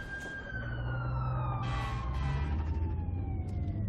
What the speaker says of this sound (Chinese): 是消防车的声音吧